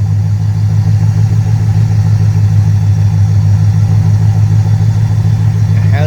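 A car engine idling after a PI camshaft swap, a loud, steady low rumble with a choppy, lumpy pulse throughout, close by and with no other sounds.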